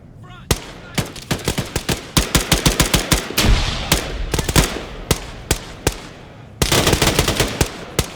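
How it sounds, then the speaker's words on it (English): ArmA 3 firefight while liberating a farm on Sahrani: dense, loud gunfire with rapid rifle and machine-gun bursts, sharp close cracks in uneven rhythm throughout, over a faint background voice. "after a fast and furious firefight"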